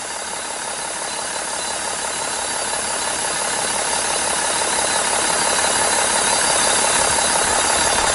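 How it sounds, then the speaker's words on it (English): A diesel vehicle engine idles steadily for several seconds during a decarbonization treatment, a loud, close, even clatter with a faint rattle and no voices. "all we're doing now is we'll leave the vehicle idling"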